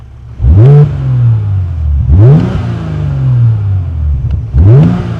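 A Morgan Plus Six with a BMW six-cylinder engine starts and revs hard three times, each rise climbing steeply and then falling back to a throaty idle. The sound is loud and close, with no voices.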